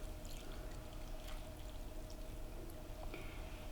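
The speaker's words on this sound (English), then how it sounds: "Right, so we'll pour this over our mixture." Salad dressing poured over a mixed herb salad, a steady soft liquid stream that runs unbroken for the whole stretch, close and fairly quiet, with no talking.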